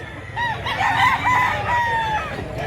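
A gamecock for sale at a market in Mantalungon, Cebu crows loudly and close, one drawn-out call rising and falling over a low background murmur.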